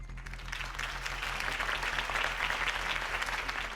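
In Batman: The Telltale Series, a large crowd applauds after Harvey Dent's campaign speech, producing a dense, steady roar of clapping that holds at an even level throughout, with no voices.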